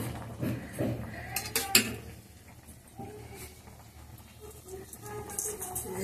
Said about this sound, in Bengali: আমি কিছুটা উস্তে দিয়ে দিয়েছি, আর এবার বেগুনটাকে আমি ঢেলে দিচ্ছি।